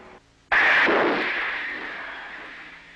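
A torpedo launched from a U.S. nuclear submarine during an exercise firing: one sudden loud blast with a hissing, rushing release that slowly fades over a couple of seconds.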